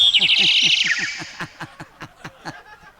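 A short burst of small bird chirps, a quick trill followed by a string of sharp, evenly spaced tweets that gradually thin out.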